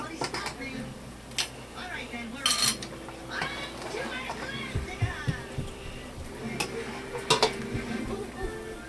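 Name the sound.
pasta spoon scraping a pot while serving pasta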